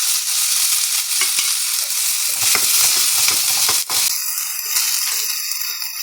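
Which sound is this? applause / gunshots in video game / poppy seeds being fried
poppy seeds being fried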